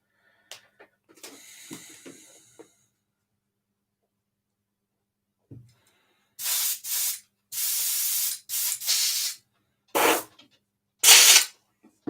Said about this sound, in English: Don't clean this out properly, it dries horribly in the airbrush.